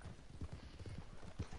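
Horse hooves clip-clop in a steady, uneven rhythm during a ride in the Red Dead Redemption 2 video game, the thuds fairly close and sitting over a faint background bed.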